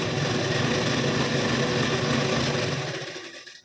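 An electric sewing machine runs a continuous fast stitching burr along a blouse seam at the waist, loud and close, winding down and stopping near the end.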